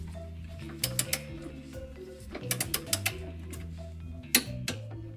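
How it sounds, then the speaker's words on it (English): Torque wrench tightening the nut on a Jeep shock absorber, with clusters of sharp ratcheting clicks in short bursts over a low mechanical hum. "we're going to torque this to 44 foot-pounds"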